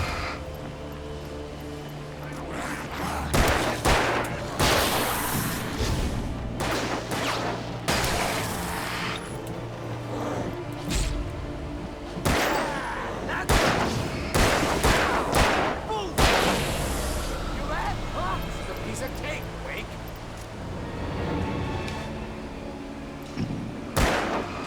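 Gunfire in the horror action game Alan Wake, with repeated sharp shots and booming bursts spread across a dense, noisy game mix, a voice talking at times underneath.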